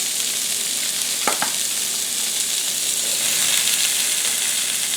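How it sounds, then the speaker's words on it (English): Large sausages sear in a hot pan with a loud, steady sizzle and hiss that runs the whole time, broken by a couple of brief clacks as the links are turned. "I'm going to sear them for just until I start getting a little brown"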